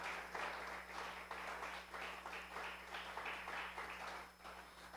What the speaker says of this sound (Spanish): Dale un aplauso al Rey por ese hermoso,